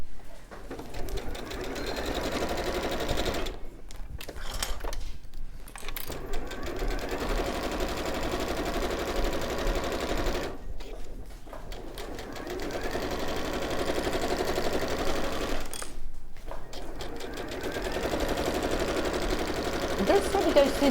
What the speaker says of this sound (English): So we're going to sew around the raw edge and just leave that turning gap there